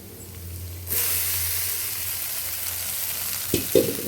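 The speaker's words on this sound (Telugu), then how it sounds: "ఇప్పుడు ఈ నూడిల్స్ వేసేది." Egg noodles drop into a hot pan and start frying, so a quiet background suddenly turns into a loud, steady sizzle, with a couple of brief clinks or stirring knocks near the end.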